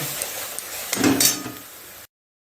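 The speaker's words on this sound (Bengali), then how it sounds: "মশলাটা তো কষে নিচ্ছি" Spice paste being fried and stirred in oil in a pan, a soft sizzle with scraping and clinks of a spoon against the pan, a louder burst of stirring midway, then stopping abruptly.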